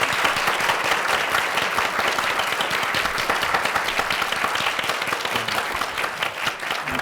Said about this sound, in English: A big round of applause for our speakers.